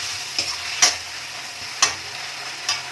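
Soya chowmein with red chilli sauce and black pepper being stirred in a pan: a steady close sizzle with four sharp scraping knocks of the spatula at irregular intervals, no voices.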